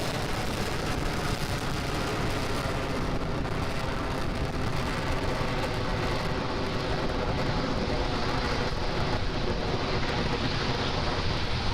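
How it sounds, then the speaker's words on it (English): Falcon 9 Merlin 1D rocket engines during the ANASIS-II launch, throttling down in flight: a continuous, broadband roaring rumble that stays loud and steady throughout, with no talk over it. "M1D engines are throttling down, getting ready to reduce vehicle acceleration"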